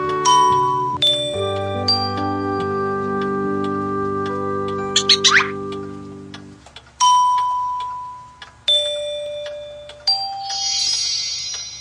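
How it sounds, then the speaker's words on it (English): A set of bells rings in an animated fairy-tale story for children. Bright chiming tones ring out in separate clusters over about twelve seconds, with sustained tones underneath, and nobody speaks. "firstly, you need to ring the bells"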